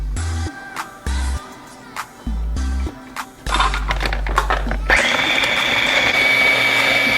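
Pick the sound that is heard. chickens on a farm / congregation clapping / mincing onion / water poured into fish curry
mincing onion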